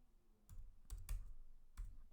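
Quiet keystrokes on a computer keyboard in a handful of short bursts with small gaps between them, close but soft, and no one talks.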